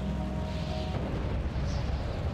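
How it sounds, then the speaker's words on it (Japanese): A depth charge detonates far below the surface in the Stormworks game, heard as a continuous muffled low-frequency rumble with a dull thud near the middle, sustained and heavy throughout. "かなり深いところで爆発したっすけど"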